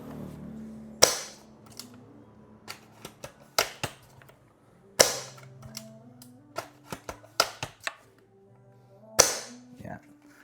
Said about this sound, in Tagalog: kita nyo naman napakatahimik ng sniper na to